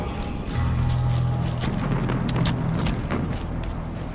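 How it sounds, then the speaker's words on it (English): A grenade explodes right beside the player in Halo 5 after a charge into a wall, a loud, sustained blast with rumbling debris and gunfire over steady game noise. "I just charged a wall and threw a nade at it right in my face."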